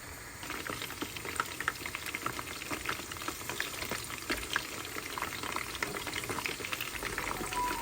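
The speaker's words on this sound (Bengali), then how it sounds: "প্যানে তেল দিয়ে চিকেনগুলো ভেজে নিলাম" Chicken pieces frying in hot oil in a pan crackle and bubble steadily, a dense close sizzle with occasional stirring, no voices.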